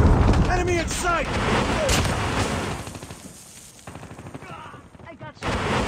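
Rapid bursts of video game gunfire in a multiplayer shooter match, with repeated shots and booms close and loud, overlapping with shouted voices and in-game callouts.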